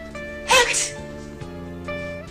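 A single sharp sneeze bursts out over a steady musical background, brief and close, followed by the music continuing.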